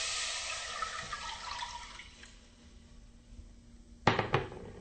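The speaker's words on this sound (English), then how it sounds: "So first I'm going to pour the water into the pan." Water is poured into a pan while making an orange vegan cake, a soft continuous running splash that fades, followed by a sharper brief splash or clatter near the end; no talking.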